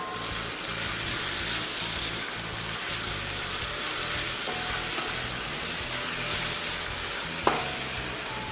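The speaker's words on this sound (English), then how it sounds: "I'm just going to add the blended onion, garlic, and peppers and have them all sauteed together." Blended onion, garlic and peppers sizzle and fry in a pan over medium heat, a steady crackling hiss with occasional stirring scrapes and a sharp clink near the end.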